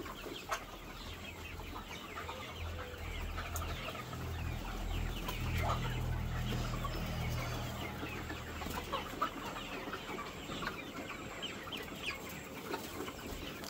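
A flock of parent stock chickens clucks continuously on a farm, a dense, busy chorus of overlapping calls with occasional sharper squawks, steady throughout.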